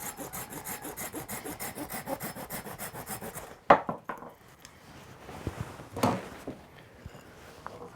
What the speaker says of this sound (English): when sawing with knife saws like this, always put your thumb on the side so it doesn't jump up